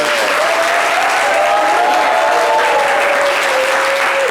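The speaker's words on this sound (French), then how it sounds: "Va applaudissez-la." A studio audience applauds a guest on a French-language midday show, with loud, even clapping sustained across the whole stretch and a thin tone running beneath it.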